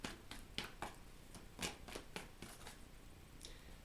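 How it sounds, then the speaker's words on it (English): Tarot cards are shuffled by hand, a series of faint, crisp riffling and slapping bursts at an irregular pace, close and quiet with no voices. "I'm just going to keep shuffling"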